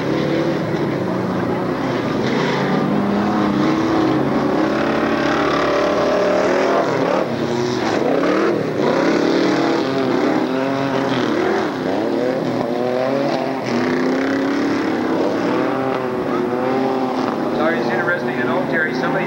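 A mud bog truck engine roars loudly and continuously down the front straightaway at a 1994 Class 6 event in Lake Odessa, Michigan, with revving pitch sweeps under an announcer talking over a public address system.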